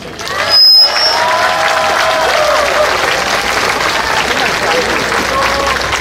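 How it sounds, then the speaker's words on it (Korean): A large crowd at an outdoor Sewol ferry disaster memorial cultural event breaks into steady, loud applause that fills the whole stretch, with a brief louder burst near the start and scattered cheering mixed in. "힘찬 박수 한번 다시 부탁드립니다."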